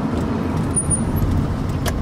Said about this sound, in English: let me park my car real quick